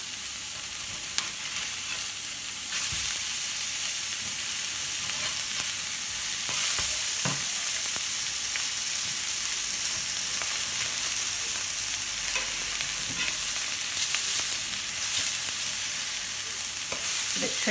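Tuna steaks sizzle on a hot charred griddle pan, a dense, steady frying hiss throughout with occasional soft clinks and scrapes, no talking.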